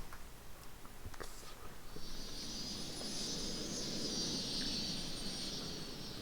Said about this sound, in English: So as you can hear, there is an airport now.